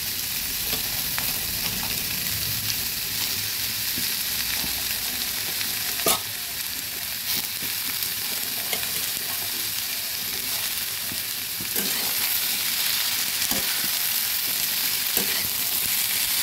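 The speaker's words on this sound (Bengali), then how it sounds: "নেড়ে চেড়ে এবার বরবটিগুলো দিয়ে দিচ্ছি।" Pumpkin pieces with slit green chillies and yardlong beans stir-frying in a pan, giving a steady, close sizzle throughout with occasional sharp clicks of a spatula stirring against the pan, no talking.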